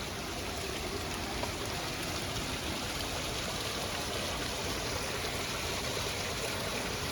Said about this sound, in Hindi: ये पेड़ है ऊपर, उसके अंदर से पानी आ रहा है, कितनी स्पीड में आ रहा है